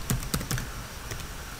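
Quick bursts of keystrokes on a computer keyboard while entering Java code, three or four sharp clicks close together, then softer taps fading out, alone with no talk.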